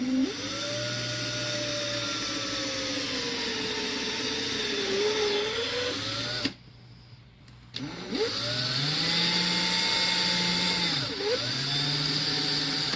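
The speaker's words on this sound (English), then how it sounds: "all I'm doing is wallering out with the drill bit" Drill bit boring and widening a line across a piece of wood, a continuous whining motor with pitch shifting as it loads and frees, a brief pause near the middle, then drilling resumes close and loud.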